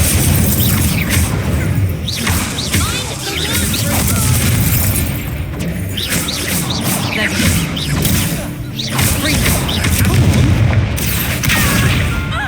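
Loud booming fire-spell blasts in Hogwarts Legacy erupt repeatedly, heavy whooshing bursts that swell and recede in waves over a steady noisy battle bed, with faint voices underneath.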